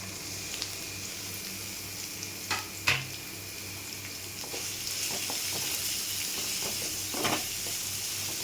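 Garlic, ginger and carrot sauté in a hot pan with a soft, continuous sizzle, broken by a few sharp clicks and scrapes from stirring.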